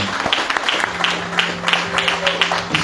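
A Pentecostal church congregation in Gallatin, Tennessee, claps together through a night service, producing steady, dense applause with a rhythmic pulse over a faint background hum.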